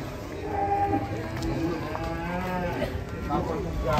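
Cattle moo loudly and close, with long drawn-out lowing calls filling the whole stretch over a steady farmyard background.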